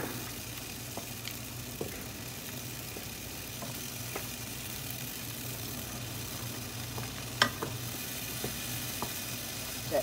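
Potatoes sizzle steadily in a pan over medium heat, a soft continuous crackle with occasional sharper pops, no voices.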